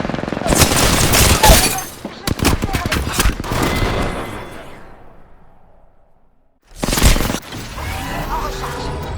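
Dense bursts of rapid gunfire from a shooter video game, loud and close, broken by a fading gap of near silence before another heavy volley erupts.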